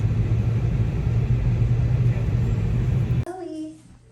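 Steady low rumble inside a moving car, loud and constant for about three seconds, then cutting off abruptly into near quiet with a faint voice.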